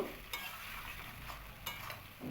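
Fried pointed gourd (potol) sautéing in a pan of spice paste that has released its oil, with a soft steady sizzle and a few sharp stirring scrapes, close and quiet with no voices.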